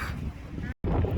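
Icy wind by the sea roars loudly into the microphone as steady low rumbling buffeting, cut by a brief moment of silence before resuming.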